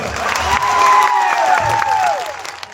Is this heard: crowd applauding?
yes